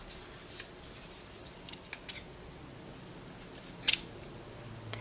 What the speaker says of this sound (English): once you reach the end, you can cut and fasten off.